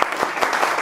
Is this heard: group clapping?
yes